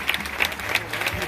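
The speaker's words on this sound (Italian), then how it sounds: "Prolungatelo questo applauso per la mia band straordinaria." Audience applause for a live band in an Italian town square at a comedy show, a steady dense patter of many hands at moderate distance, fading slightly toward the end.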